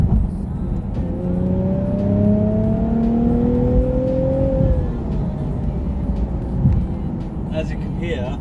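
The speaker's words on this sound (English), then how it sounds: "So the engine sound kind of drowns out the exhaust" Nissan 370Z V6 with short tail exhaust, heard from the cabin with the window down: the engine revs up in a rising, steady tone for a few seconds and then drops away, with someone speaking over it.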